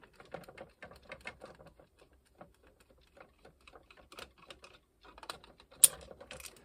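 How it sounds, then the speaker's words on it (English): A handheld screwdriver backs screws out of a Gemmy 2002 animated spinning snowflake snowman, making a run of small dry ticking and ratcheting clicks close up, with a brighter click burst near the end. "Grab a screwdriver. Take out these 4 screws here."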